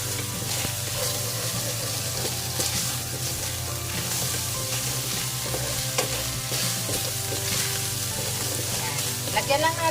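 Vegetables and meat sizzle steadily in a hot pan for ginamay, a constant frying hiss with occasional stirring scrapes and clinks throughout.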